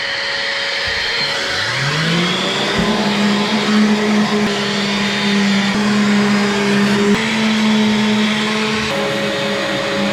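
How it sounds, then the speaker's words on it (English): A shop vac hooked to a sander for stripping kitchen cabinets spins up with a rising whine and then settles into a loud, steady motor drone that runs throughout, close to the microphone. "Shop vac attached to sander. Shop vac comes on."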